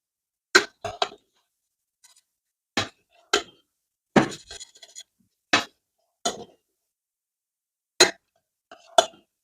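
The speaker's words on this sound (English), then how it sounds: "after 2 minutes, you can give the rice a good mix" Cooked biryani rice for a 1kg mutton biryani being mixed in a pot, heard as separate short clinks and scrapes of a utensil against the pan, some in quick pairs, spaced across otherwise quiet moments.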